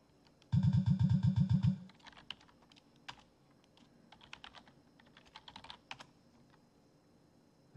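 Typing a password on a Linux computer keyboard produces a short series of quick, close key clicks, followed by a loud buzzing burst and then scattered single key taps.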